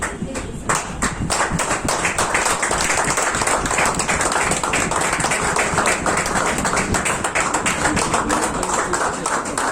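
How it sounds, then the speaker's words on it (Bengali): A seminar audience claps steadily for nearly ten seconds, a dense, even patter of many hands that stays loud throughout with no voices over it. "হাততালি হবে।"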